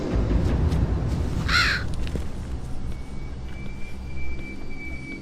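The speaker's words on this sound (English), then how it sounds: "Let's see what this Raven has to say." A raven in the video game Mask of Eternity caws once, loud and close, over a steady low rumbling game ambience, followed by a thin sustained tone.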